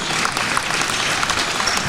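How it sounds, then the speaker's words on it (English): A crowd of fans at a high school girls basketball game in Washington applauds a senior player heading to the bench, a dense, loud burst of clapping with no talk over it. "round of applause from the fans here in Washington"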